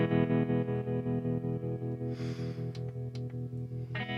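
A guitar played through a touch wah effect on a BOSS GT1000 Core, with distorted sustained chords pulsing in a steady rhythmic sweep and a few brighter picked accents.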